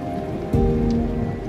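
Rain falls steadily on a solar-powered bike ride through the green Sundgau countryside of Alsace, a dense close hiss with a brief louder swell midway and no voices.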